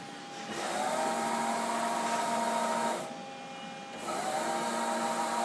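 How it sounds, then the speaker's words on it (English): A Southwestern Industries CNC vertical mill makes a rapid Y-axis move, its servos and ball screws giving a steady, loud mechanical whine with tonal hum. The whine runs for about two and a half seconds, dips briefly, then resumes at full level. "the servos and the ball screws sound very good. And this is the... That's Y Rapid."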